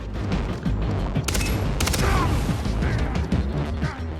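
Dense gunfire from a 3-round burst weapon in the video game Far Cry 3, with rapid cracks and booming impacts packed tightly together. A few sharper, brighter shots stand out near the middle. The noise is loud and continuous throughout, with no talk.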